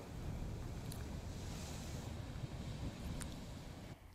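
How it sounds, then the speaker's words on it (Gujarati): Waves surging at Dwarka ghat under strong wind, a continuous broad roar of surf and gusts buffeting the microphone, with a couple of faint higher knocks. "ભારે પવન ફૂંકાતા 15 ફૂટ જેટલા ઊંચા મોજા ઉછળ્યા હતા"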